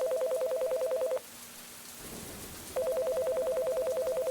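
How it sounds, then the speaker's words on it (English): A phone rings in the video game The Divine Invasion: two bursts of steady electronic trilling, loud and close, separated by a short gap filled with rain-like hiss. "Let's answer the phone that's annoying me."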